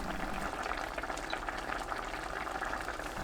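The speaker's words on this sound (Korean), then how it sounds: "국물 끼얹으면서 2분 끓입니다" Braised fresh tofu simmering in broth over high heat while being basted, giving a steady, close bubbling and hiss with no voices.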